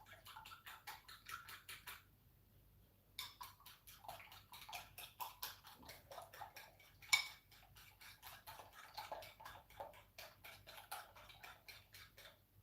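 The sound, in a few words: whisking eggs in a bowl with a fork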